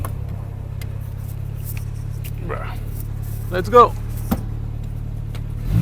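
A Triumph TR4 sports car sits with its engine running in a steady low hum while a voice speaks briefly, then clicks and a short louder engine swell follow as it begins to pull away.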